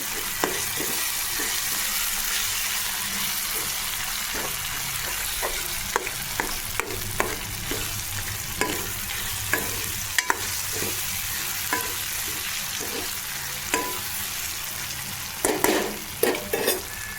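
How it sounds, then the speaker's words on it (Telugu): Ginger garlic paste sizzles steadily in a hot pan for a dry fish curry while a spoon stirs it, with repeated sharp scraping clicks against the pan over continuous frying hiss. No one speaks. "ఇప్పుడు సరిపడా అల్లం వెల్లుల్లి పేస్ట్ వేసుకున్నానండి వేసుకొని కలుపుకోవాలి"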